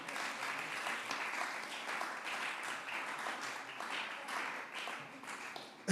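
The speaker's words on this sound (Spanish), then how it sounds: "Venga, un aplausito de compromiso," Polite, sustained applause from a crowd at a live comedy and music night, steady and moderately loud throughout with no speech over it, ending in a short burst of louder clapping.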